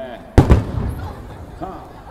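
Fireworks burst at the Nagoya port festival fireworks show for Marine Day, one loud close boom followed by a second pop and fading rumble, then a quieter stretch of crowd or voices.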